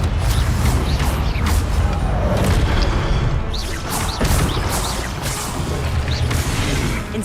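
Confringo blasting spells exploding in Hogwarts Legacy, a dense run of booming blasts and crackling bursts over continuous loud game effects, with no talk.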